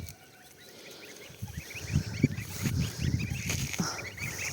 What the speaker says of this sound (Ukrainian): Мої гусятка йдуть пастися.